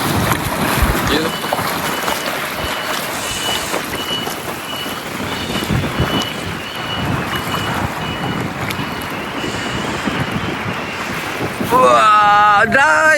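Strong wind buffets the microphone outdoors where huge flocks of birds gather, a loud rough rumble running throughout with rising gusts. A sharp tonal whistling or cry cuts in near the end.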